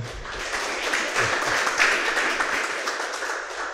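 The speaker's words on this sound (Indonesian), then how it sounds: "kita beri tepuk tangan semua" A church congregation at a Sunday service gives a dense, steady round of clapping that carries on without a break for a few seconds.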